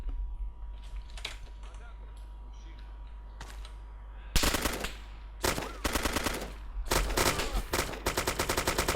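Automatic gunfire from soldiers in the video game ARMA 2: Operation Arrowhead, loud sustained bursts of rapid machine-gun fire over a steady low game rumble, with fainter shots at first and heavier fire building toward the end.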